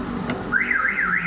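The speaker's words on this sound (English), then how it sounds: "Nag-alarm." A Mitsubishi Montero's car alarm going off at a second-hand car lot, a loud close electronic siren sweeping up and down in pitch after a brief chirp, with no talking over it.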